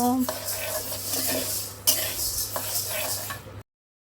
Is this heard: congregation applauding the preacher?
no